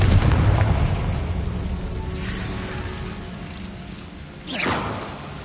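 A Confringo fire-blast spell in Hogwarts Legacy goes off as a heavy, rumbling explosion with a whooshing burst, loud at first and fading into a low roar, followed by a short sharp swoosh near the end.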